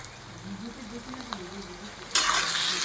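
Ginger paste, tomato and turmeric cook down in a pan for a spicy jackfruit curry, a quiet low sizzle with soft murmuring, then a sudden louder hiss near the end.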